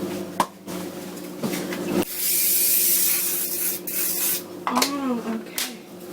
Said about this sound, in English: Now I'm actually gonna spray it with the oil.